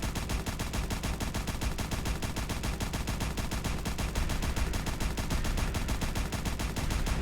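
Rapid, rhythmic bursts of laser fire from a Wattz 3000 mkII laser gun in Fallout 4, a dense, evenly pulsing barrage that runs loud and unbroken throughout.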